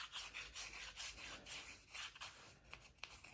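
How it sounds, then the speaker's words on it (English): A small wooden inlay piece for a drawer box is back bevelled by hand, soft rhythmic rasping strokes close up and quiet, repeating in quick succession with no talk. "Then you can take your piece and slightly back bevel it"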